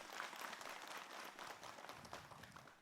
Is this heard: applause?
yes